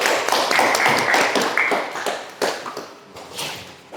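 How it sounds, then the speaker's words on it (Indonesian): Classmates in a school classroom clap for a high-achieving student, a brief burst of scattered close handclaps that thins into a few separate claps and taps before fading. "Beri tepuk tangan dulu."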